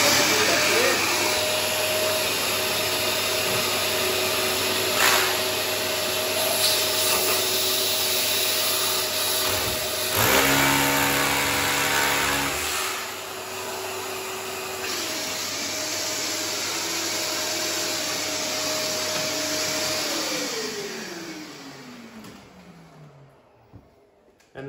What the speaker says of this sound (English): We've got this unique dust extraction system.